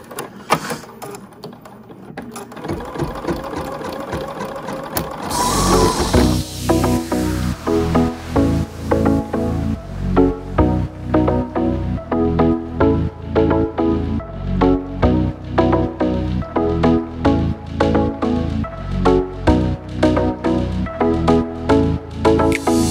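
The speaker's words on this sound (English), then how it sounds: "So I'm gonna go ahead and start stitching." An embroidery machine stitching bunny ears, starting after a few seconds of handling noise and then running a fast, even mechanical tapping rhythm, close and loud throughout.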